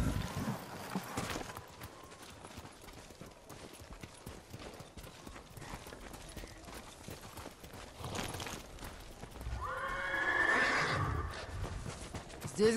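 Horses in the samurai video game Ghost of Tsushima clip-clop along with hooves thudding, and a loud whinny rises near the end over wind and ambient forest noise.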